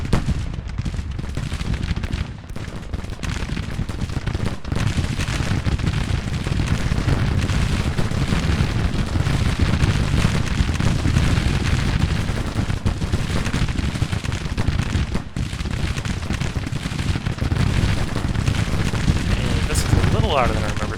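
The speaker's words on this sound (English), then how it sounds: "Gunfire does begin to fire." Continuous dense musket fire and booming cannon blasts in an American Civil War strategy game fill the whole stretch, loud and relentless, with no pauses.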